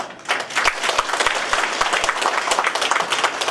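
Audience applauding continuously at a 2015 Daegu town-hall political event, dense clapping with sharp individual claps standing out, sustained and fairly loud throughout.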